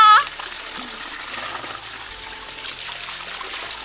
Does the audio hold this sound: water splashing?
yes